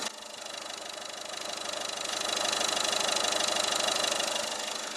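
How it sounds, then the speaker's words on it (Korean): The 1.6 e-HDi diesel engine of a Peugeot 2008 idles steadily up close, a low rhythmic knocking rumble that swells slightly in loudness and then eases back. "엔진 소리도 디젤 엔진인데 상당히 조용한 소리를 내고 있습니다"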